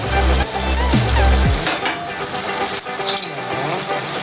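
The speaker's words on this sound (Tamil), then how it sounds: "போட்டு நல்லா கிண்டிக்கலாம்." Chili powder is stirred into chicken gravy in a hot pan for a Mannargudi-style recipe, with a steady loud sizzle and frying hiss plus scraping stirring strokes close by, and no talk.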